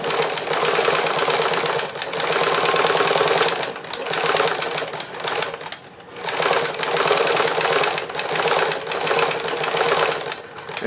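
A Janome sewing machine fitted with an alphabet stitch attachment stitches letters in loud, close, buzzing runs, its speed rising and falling with brief stops between letters.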